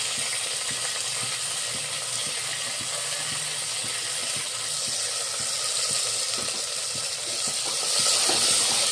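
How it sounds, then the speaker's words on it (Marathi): Continuous loud sizzling in a hot pan of tempering with faint clicking and stirring, swelling slightly toward the end as garlic-cumin paste and tomato go in, for bajra khichdi. "फोडणीमध्ये मी थोडा लसूण जिऱ्याचा पेस्ट टाकत आहे आणि हे टमाटर टाकत आहे"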